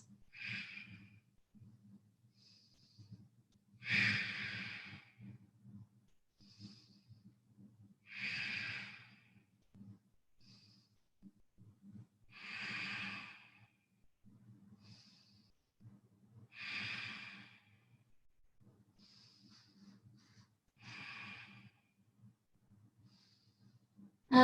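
Slow, deep breaths during a yoga session at home, each loud breathy exhale rising and fading about every four seconds in an otherwise quiet room, a faint low hum between them.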